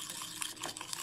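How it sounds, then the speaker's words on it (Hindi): A spoon stirs a homemade scrub of coconut oil, powdered sugar and strawberry puree in a small bowl, giving soft, continuous close-up scraping and squishing for about a second with no talk. "ये डाल के इसको अच्छे से हम मिक्स करेंगे"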